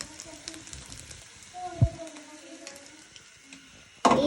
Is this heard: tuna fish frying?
yes